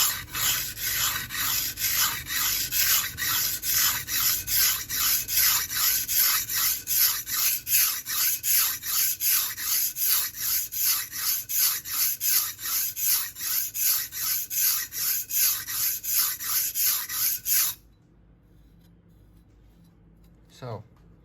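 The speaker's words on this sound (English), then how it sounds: "I have just sharpened on one side, so there should be a burr that is facing this way." A hardened steel blade being sharpened to raise a burr, with fast, even rasping strokes repeated steadily for most of the clip, then stopping into near silence with one faint tap near the end.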